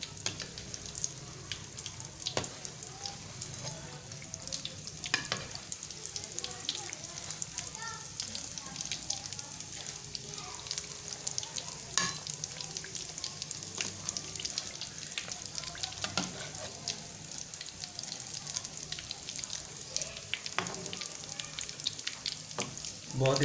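Egg potato balls deep-frying in oil, a steady soft bubbling sizzle with scattered pops and occasional stirring clicks, continuous and fairly quiet throughout.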